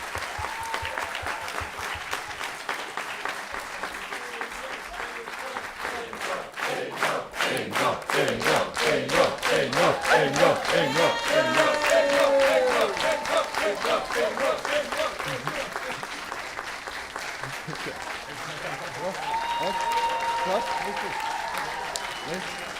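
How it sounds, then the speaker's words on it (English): A general assembly crowd bursts into rhythmic applause, building into loud, steady clapping with shouts and cheers, peaking midway and easing off, with voices calling out over it. "And now stop yapping, start clapping"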